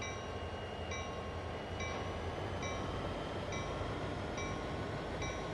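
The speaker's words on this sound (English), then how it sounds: "it's probably going to take us a little while to get rolling good, because this is a huge train" Heavy freight train in a Train Sim World game slowly getting underway, a continuous low rumble with a faint, regular clicking beat about once a second and no voices.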